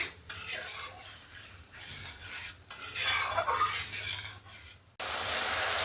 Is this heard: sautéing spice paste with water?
yes